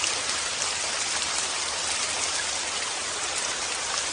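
Rain falls outside a hospital in a drama scene, a steady dense hiss of downpour that stays even and fills the whole stretch, with no voices.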